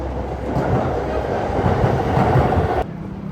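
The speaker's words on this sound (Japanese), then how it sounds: "さて、電車移動して新宿へ。" A Tokyo commuter train runs on its rails toward Shinjuku, a loud steady rumble with faint rhythmic clatter heard from inside the car, dropping off sharply near the end.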